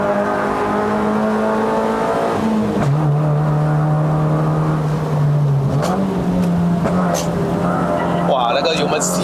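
Honda City GM6 with a six-speed manual gearbox climbing the uphill Genting road in Malaysia, its engine droning loudly and steadily, with a drop in pitch near three seconds and a rise again around six seconds as gears change.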